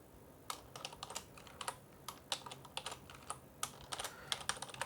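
Fingers type on a Windows computer keyboard in quick, irregular bursts of close, soft key clicks with short pauses between runs.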